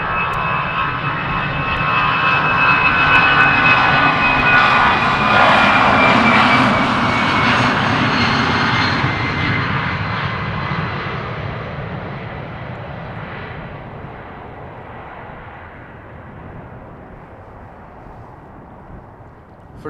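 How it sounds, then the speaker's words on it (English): An EasyJet Airbus A320 spools up its jet engines at Amsterdam Schiphol Airport, a loud, bassy growl with a rising whine that swells over several seconds, then slowly fades as the aircraft recedes. "A320s, when spooling up the engines, they make a more bassy growl."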